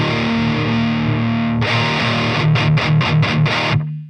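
Distorted electric guitar through a KSR high-gain metal amp on its lead 2 channel: a sustained chord rings, then a loud rhythmic run of six tight palm-muted chugs before it cuts off, heard alone.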